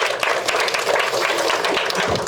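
A seminar audience fills the space with dense, loud, steady applause: a continuous wash of many clapping hands with no voices over it.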